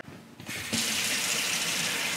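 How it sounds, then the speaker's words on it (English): Water starts gushing from a tap into a sink after a faint click, settling into a steady close rushing stream. "The water's running."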